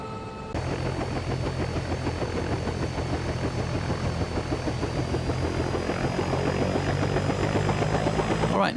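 Simulated Bell 206 helicopter in X-Plane 12, its engine and rotor starting abruptly then holding a loud, steady whine with rapid blade chopping as the throttle rolls on.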